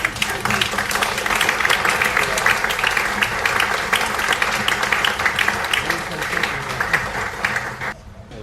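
Sustained audience applause after a public conversation event, dense clapping holding steady for about eight seconds before quickly tapering off at the end.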